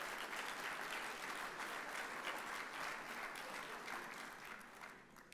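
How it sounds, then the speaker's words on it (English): A round of applause from the audience at an athletics hall of fame induction ceremony, dense sustained clapping from a large crowd that stays steady and then fades toward the end. "I think that deserves a round of applause after these last 2 years"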